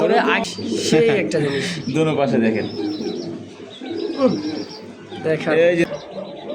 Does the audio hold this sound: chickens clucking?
no